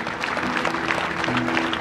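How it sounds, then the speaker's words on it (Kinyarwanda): A congregation applauds at the installation of a bishop in the Anglican Shyogwe Diocese, Rwanda: brief, dense, even clapping throughout, fairly loud. "amashyi."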